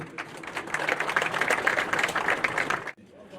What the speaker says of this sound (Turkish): alkışlarınızla çok teşekkür ediyoruz.